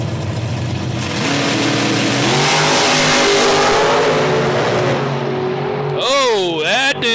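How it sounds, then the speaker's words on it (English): Drag racing door cars rev loudly, then launch at a drag strip, their engines a loud, close roar climbing in pitch. An announcer talks over the engines, and his voice is clearest as the noise drops near the end. "Now I see the door cars rolling."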